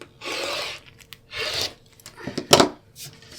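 Scissors or a cutter trimming the edge of quilt fabric: a few close rasping cuts separated by short pauses, with one sharper snip near the end.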